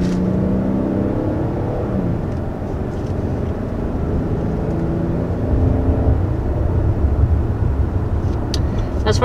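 A 2021 Kia Telluride SX with an 8-speed automatic transmission accelerates with a steady engine drone heard from inside the cabin, the pitch rising and dropping as gears change, alone without talk.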